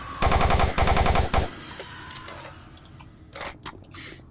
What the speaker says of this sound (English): Why am I using a plasma gun?